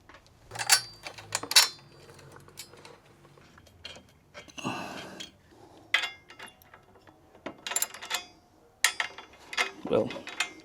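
A bolt is fitted and tightened on an Aprilia Tuareg 660 during upgrades after a river drop: a series of sharp metallic clicks, ratcheting bursts and clinks close up, in irregular clusters with short quiet gaps.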